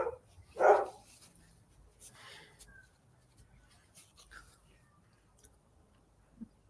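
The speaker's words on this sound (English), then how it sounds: "now the dog's barking" A dog barks in the background of a quiet setting, with one clear bark near the start followed by a few fainter, scattered sounds against low room noise.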